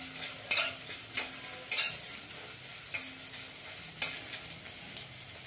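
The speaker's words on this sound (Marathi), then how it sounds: "हा डिंक आहे ना तो तळून घ्यायचा आहे आपल्याला. त्याला पण मंद याच्यावर असं तळून घ्यायचं." Edible gum (dink) frying on low heat in a pan for protein laddoos: a gentle, even sizzle with spaced scraping strokes of a spoon stirring through it, close and fairly quiet.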